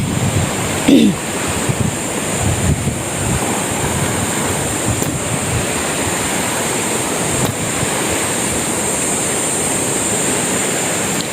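Strong wind roars and buffets the microphone by the shore, with surf washing continuously in the background; no one speaks.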